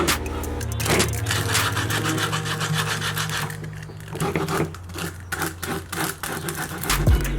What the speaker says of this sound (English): clean up the edges with just a piece of sandpaper here